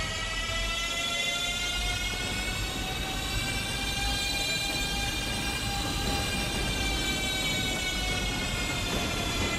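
Steady rumble of an NYC subway N train riding along the track in Minecraft, continuous and fairly loud, with a sustained high whine layered on top and no talking.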